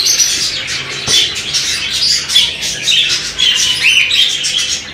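Cockatiel giving continuous loud, harsh squawks and chirps up close, a dense stretch of shrill calls that barely pauses.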